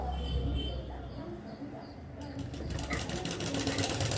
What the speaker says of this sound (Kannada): ಈ ಥರ ಹಾಫ್ ಇಂಚಿಗೆ ಸರಿಯಾಗಿ ಎರಡು ಫೋಲ್ಡ್ ಮಾಡಿಬಿಟ್ಟು ನಾನಿಲ್ಲಿ ಸ್ಟಿಚ್ನ ಹಾಕೋತಾ ಇರೋದು.